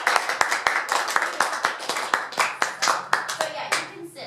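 A small audience at a presentation on Victorian women's dresses applauds Alex for her dress work, a short burst of brisk, fairly close hand claps that taper off near the end.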